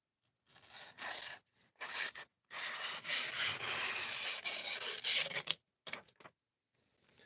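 A sharp knife slices through thick cardboard in repeated drawn strokes, each a close, gritty rasping tear separated by brief silences.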